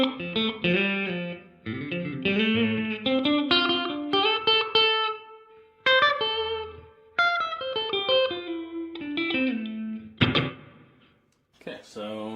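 A Donner delay and reverb pedal set to a large plate reverb with mid decay, carrying a melodic electric guitar phrase of plucked notes and chords whose tails ring and wash out between phrases, fairly loud and alone.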